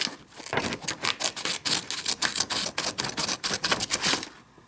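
Small scissors on a Schrade ST12TSA keychain multitool snip repeatedly, a quick run of crisp, close clicks and snips with no voices.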